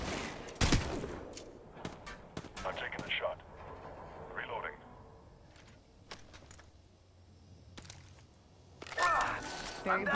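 Bursts of gunfire from the mobile battle royale game Apex Legends Mobile, several short sharp volleys spread across the clip with louder shooting near the end, mixed with game voice callouts and background noise.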